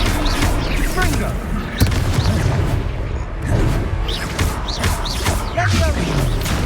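Confringo blasting spells explode in rapid succession during a fight in the game Hogwarts Legacy, loud booming bursts layered with crashing impacts, music and shouted spell calls.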